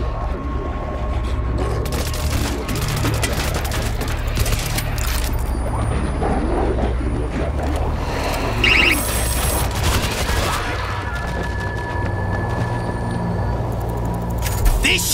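An auto turret firing at zombie hordes in the World War Z shooter: dense, continuous rattling gunfire mixed with booms and mechanical clatter over a heavy rumble, loud and unbroken throughout.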